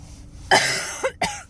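A few harsh coughs close to the mic from a person with a month-long cough, one strong hack followed by two shorter ones, with no speech.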